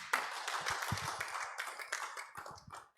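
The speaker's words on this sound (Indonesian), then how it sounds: "Kasih tepuk tangan dulu buat Tuhan." A congregation claps hands during a Sunday worship service: a mix of scattered and rhythmic claps with some low thumping beats underneath, fairly faint and continuing for a few seconds without speech.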